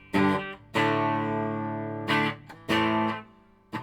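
Electric guitar through a subtly set reverb pedal: a few sustained chords and short stabs, each ringing out with a soft tail, played alone and fairly quiet.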